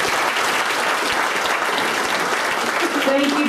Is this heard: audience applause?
yes